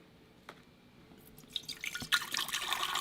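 Distilled water poured into a laboratory beaker, starting with a few soft drips and building into a brighter, steady trickle of liquid filling the glass, close and fairly quiet, with no talking.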